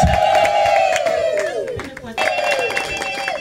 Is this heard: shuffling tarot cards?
no